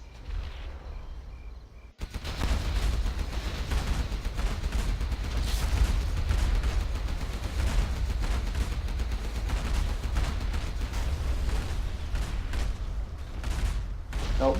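Scud launchers and tanks fire in a Command and Conquer Generals Zero Hour skirmish: after a quieter first two seconds, a dense, loud barrage of booms and rapid gunfire runs without pause.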